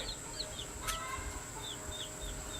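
Young chicks from Hoover Hatchery in an opened delivery box, meat birds of Cornish cross and slow-growing white broiler type, give several short high peeps scattered over a steady low background hum, with one brief louder rustle.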